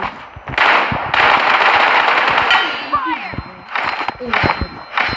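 Pistol fire in a first-person shooter video game comes in dense, loud bursts of rapid shots, with brief pauses between volleys and a voice talking faintly underneath.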